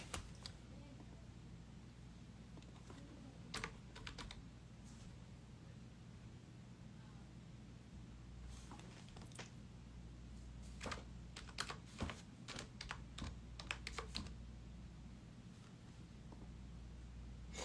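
Typing on a computer keyboard, scattered bursts of light key clicks over a steady low hum, faint and close, coming in quick clusters with gaps between.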